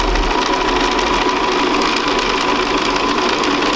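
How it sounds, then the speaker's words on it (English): Sewing machine stitching around a fabric circle for a quilt, a loud continuous mechanical whir and hum running steadily at close range without pause or speech. "all I'm doing is sewing right on that circle."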